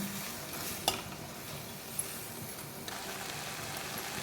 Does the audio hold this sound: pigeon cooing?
no